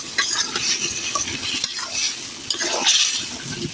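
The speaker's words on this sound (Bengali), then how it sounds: "এখন আমি সবজি রান্না করতেছি মাছের মাথা দিয়ে" Ash gourd and potato cooking with a pangas fish head in a hot pan: a continuous close sizzle with scraping stirs and occasional utensil clinks against the pan.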